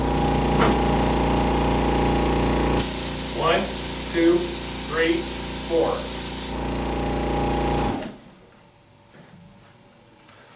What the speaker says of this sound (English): I'll spray the first apple without electrostatics for 4 seconds